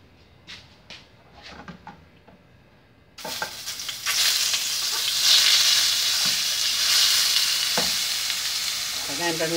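Carne de sol hits a pan of hot oil for a simple lunch, a few quiet clinks and taps first, then a sudden loud, steady sizzle and crackle that keeps going, with occasional stirring scrapes.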